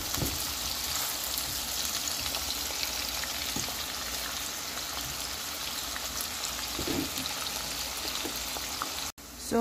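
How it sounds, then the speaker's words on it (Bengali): Onions fry in a pan until browned for a Bangladeshi ash gourd curry, giving a steady, close, even sizzle that runs without a break and cuts off just before the end. "তো পেঁয়াজ হতে হতে যখন একটু ব্রাউন হয়ে যাবে ততক্ষণ পর্যন্ত"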